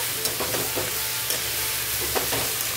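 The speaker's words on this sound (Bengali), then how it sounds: "এখন চাল কুমড়ো আর কচুটা দিয়ে দিলাম, দিয়ে ভালো করে নাড়াচাড়া করব।" Ash gourd and taro pieces are stirred into spices frying in a pan for a hilsa fish head dish, giving a loud, constant sizzle broken by scraping stirs and soft knocks, up close with no talking.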